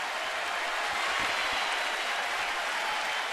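A baseball crowd in a stadium roars and applauds in a dense, steady wash of cheering during a Giants–Nationals game in Washington.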